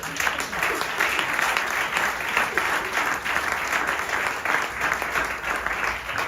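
A church congregation bursts into sustained applause during a French-language worship service, dense continuous clapping from a crowd filling the room evenly for several seconds.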